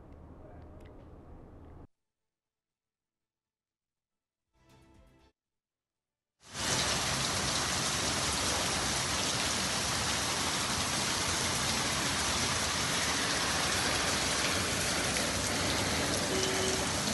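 Heavy cyclone rain in Telangana pours down as a dense, steady hiss. After brief faint sounds and a silent gap, it holds loud and unbroken.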